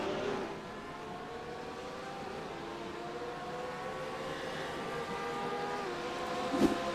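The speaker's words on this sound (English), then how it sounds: "The Porsche is obviously able to drive way down into the turns here this morning." A Porsche GT3 race car at Hockenheim, its engine note droning steadily as it holds a sustained pitch through a turn, with a brief sharp burst near the end.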